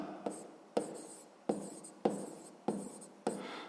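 Pen or pencil on paper writes out a sixth-grade maths solution by hand, giving a close, quiet series of six scratchy strokes, each starting with a sharp tap and trailing off, with no one speaking.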